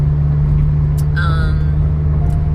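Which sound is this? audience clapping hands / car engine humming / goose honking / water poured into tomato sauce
car engine humming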